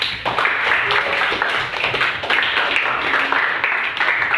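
Students in a junior high school classroom clap together steadily for a classmate's question, a dense, sustained patter that stays fairly loud throughout, with faint voices mixed in.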